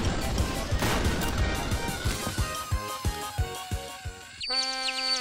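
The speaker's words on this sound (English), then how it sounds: "A train crashed into me." Cartoon train crashes into a small vehicle: a chaotic burst of impacts, then a run of sharp thuds and clunks, ending in a bright ringing metallic chime effect.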